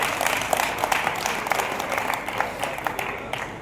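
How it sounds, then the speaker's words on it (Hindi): Scattered clapping from an audience, a steady patter of many hands with a few sharper claps standing out, moderately loud throughout. "एक बार इनके सम्मान में तालियां बजाते हैं"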